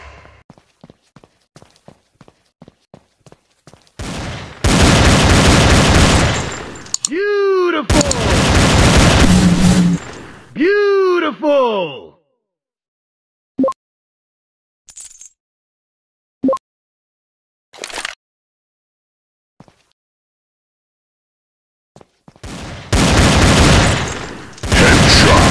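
Gunfire from the Android shooter game Gun Strike: dense, loud bursts of rapid shots, then a gap broken by single sharp reports spaced a second or two apart, before another heavy burst.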